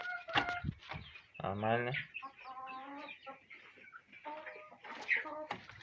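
Laying hens cluck in a backyard coop, a few short calls close by, with a person speaking in between.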